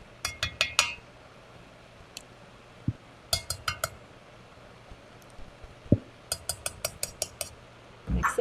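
A spoon clinks against a bowl while sour cream and ketchup are mixed together, sharp metallic taps coming in quick clusters with pauses between, close and clear with no talking.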